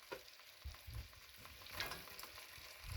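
Chopped onions going into a pan with seared chicken, producing a faint sizzle with low thumping stirs at an irregular pace.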